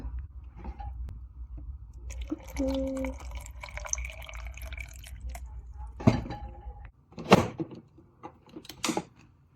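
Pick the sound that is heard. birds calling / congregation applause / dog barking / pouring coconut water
pouring coconut water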